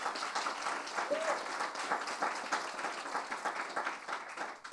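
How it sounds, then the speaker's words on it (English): Steady audience applause fills a keynote hall, dense clapping sustained throughout at even loudness without a break. "I think that deserves another big round of applause"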